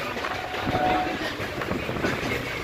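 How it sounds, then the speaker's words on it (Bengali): An Indian Railways train winds along a curving route near the Bangladesh border, a steady rumble with rhythmic wheel clatter, fairly close and continuous, with a voice faintly mixed in. "ট্রেনের ওদিকটা দেখাই যাচ্ছে না, দেখুন পুরো বেঁকে বেঁকে যাচ্ছে"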